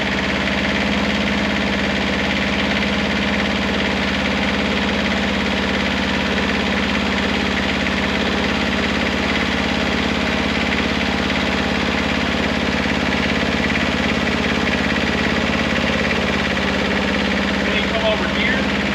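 The engine of a CTE Traccess 230-75 spider lift idles steadily and loudly with a constant low hum and vibration, close by and unchanging throughout, with a voice talking over it.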